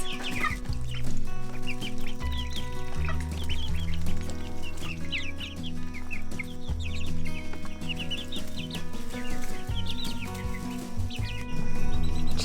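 Several chickens cluck steadily and overlap one another, with a low steady rumble underneath the whole time.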